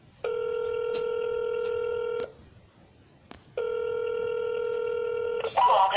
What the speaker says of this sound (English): I'm going to call him right back.